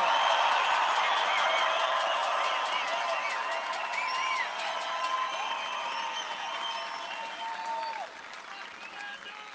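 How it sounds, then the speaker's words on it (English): Rally crowd applauding veterans at an outdoor airport event, a dense, sustained wash of clapping with scattered cheers that holds steady for several seconds, then gradually thins and drops in volume toward the end. "I think we all should give them a tremendous round of applause"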